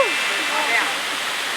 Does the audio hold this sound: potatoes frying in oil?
no